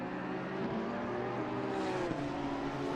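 Race car engines drone in the sim racing game Assetto Corsa Competizione, an Acura NSX at Hungaroring with a McLaren closing in, a steady, layered high-revving hum that shifts pitch slightly as cars run close together.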